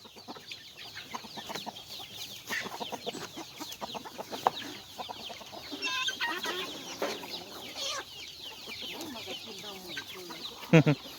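Chickens, including a large hen and small chicks, cluck and chatter in a soft, scattered stream with occasional sharper calls. They sound faint and somewhat distant, and people talk now and then.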